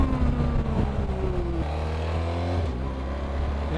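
A BMW R 1300 GS Adventure motorcycle pulls hard, its engine note climbing, dipping at an upshift, then climbing again; loud and close, with wind noise.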